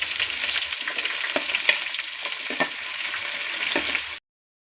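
Cashews, raisins and onion fry in a pan over a low flame, giving a steady close sizzle with brief stirring scrapes, and no one talks; the sound stops abruptly at the end.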